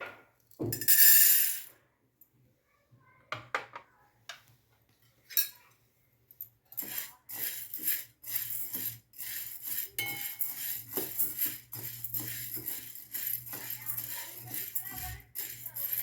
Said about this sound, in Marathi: कढईमध्ये ही डाळ भाजून घेऊया